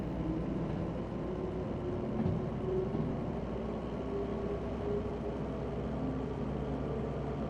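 Locomotive in the video game Derail Valley throttling up, a steady mechanical rumble and hum with faint squeals and clanks, continuous and moderately loud, no voices.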